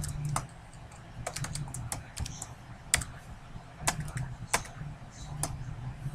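Someone types code on a computer keyboard: close, irregular clicks and taps in short bursts with brief pauses, and no voices.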